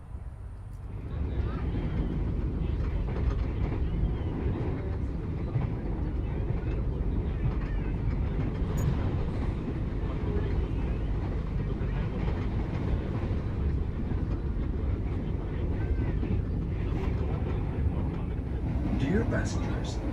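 A passenger train hauled by a CC206 locomotive departs Cirebon station, heard as a continuous low rumble and rattle of rolling wagons, steady and fairly loud for about twenty seconds.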